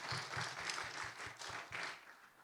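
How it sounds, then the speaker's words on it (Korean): A church congregation gives a round of applause in a bilingual Korean-English service, heard as soft, fairly distant rhythmic clapping bursts. "뜨거운 박수 한번 하겠습니다"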